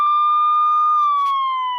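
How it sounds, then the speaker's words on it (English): A video game police car siren wails loud and close, a steady high tone that holds and then slowly drops in pitch, sounding alone with no talk. "Sounds like some muggers are coming in police cars."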